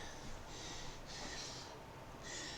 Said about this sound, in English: Don't want you to watch me blow my nose.